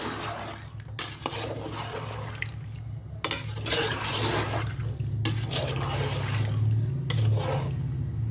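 A spoon stirring mutton curry with garam masala in a cooking pot, scraping and clinking against the metal in repeated sharp knocks over a soft simmering sizzle, close and alone without talk.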